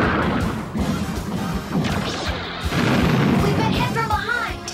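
Animated 1980s cartoon battle sound as a vehicle is struck from behind, a loud crashing blast with rumbling debris and sci-fi zaps, busy and dense from start to finish, with voices calling out partway through.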